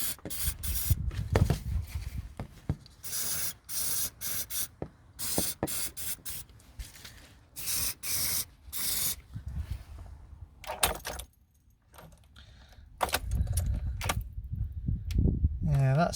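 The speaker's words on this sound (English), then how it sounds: "we'll give it a bit of a spray with some contact cleaner" Several hissing bursts of aerosol contact cleaner sprayed close by onto the glow plug relay of a 1990 Citroen C25 motorhome, interrupted by clicks, rattles and handling noises, with a brief quiet gap midway.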